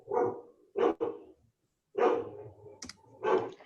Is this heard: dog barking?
yes